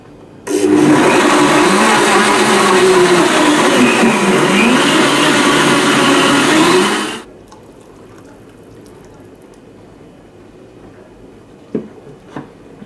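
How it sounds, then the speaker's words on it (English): A Blendtec blender runs on high, whirring a strawberry yogurt smoothie with a loud, steady roar for about seven seconds before cutting off abruptly, followed by near silence and a few faint clinks. "Blend this on high for 15 to 30 seconds."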